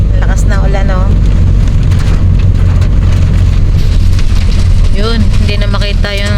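Heavy typhoon rain pounds a moving car on the road in Tagaytay, a dense, loud roar of drumming drops with a low road rumble beneath, while a few people talk inside the car.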